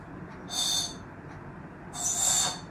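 Bird-shaped whistle toy from Ooty blown twice: two breathy, airy hoots about a second apart, each swelling and fading, fairly close with a soft background hiss and no talking.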